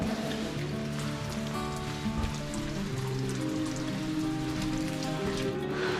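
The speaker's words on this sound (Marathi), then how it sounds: "थोडा पाऊस सुरू झालेला आहे." Steady rain patters on surfaces outside a hillside cave at Mangad fort during a trek, forming a continuous, even hiss of falling drops with no voices.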